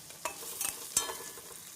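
Onions and soaked turkey berries frying in a pan for a Tamil curry, a faint, soft sizzle with a few sharp stirring scrapes and taps, no voices.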